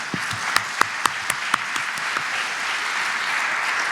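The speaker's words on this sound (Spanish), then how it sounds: "Ahora sí, un fuerte aplauso para Marcos, por favor." Conference audience applauding, a dense steady wash of clapping with a few sharp distinct claps standing out early on, continuing at an even level throughout with no talk.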